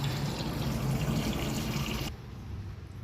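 Water rushes steadily into a Glacier Bay toilet tank with a full, close pouring hiss, then drops abruptly to a much quieter trickle as the refill valve shuts off.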